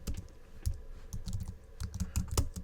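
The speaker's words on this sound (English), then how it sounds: "I'm going to type 311 portal" Keys clack in quick irregular bursts on a computer keyboard as someone types a search into a web browser, close and fairly quiet with no talking.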